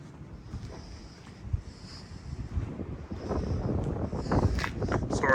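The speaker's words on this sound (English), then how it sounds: "Sorry about how windy it is today" Gusty wind buffets the microphone with a low, rumbling roar that swells and grows stronger toward the end, with no voices present.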